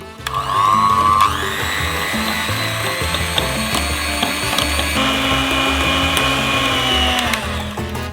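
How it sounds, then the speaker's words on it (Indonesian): An electric hand mixer whirs steadily as it whisks eggs, sugar and vanilla into pancake batter, a loud continuous motor whine with a slight pitch shift partway through. "Perlu gula, vanila, dan kocok dengan mixer."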